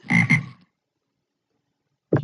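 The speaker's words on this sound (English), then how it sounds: "your frog," Two quick croaks from a frog in a children's animal-sounds learning program, loud and close, then a short silence and another croak starting at the end.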